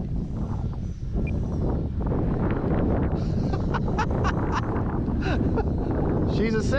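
Loud, constant wind buffeting on the microphone at an RC flying field while a small 40-inch EDF jet flies in 18 mph winds, with someone talking over it throughout.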